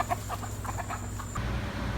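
A chicken clucks nearby in a quick run of short, evenly spaced clucks, then falls quiet as a low steady hum remains.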